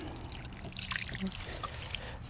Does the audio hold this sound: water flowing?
yes